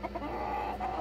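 Cheonggye chickens clucking inside a farm coop, close and continuous, with a few quick clucks leading into a drawn-out, throaty call.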